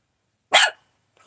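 A dog indoors gives one short, sharp bark, fairly close, followed by silence.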